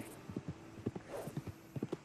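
Horse hooves clip-clop at a steady trotting pace in the Red Dead Redemption 2 video game, close and clear, with a brief faint whinny in the middle and no talking.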